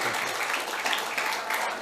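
Audience applause at an Indonesian church teaching session, a steady broadband wash of clapping that holds for about two seconds with no gaps, fairly even in loudness.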